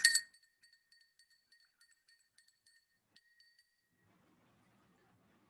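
A spoon clinks against a glass while sugar is stirred into water, starting with a bright ringing strike, then a string of light, evenly spaced taps that fade into near silence.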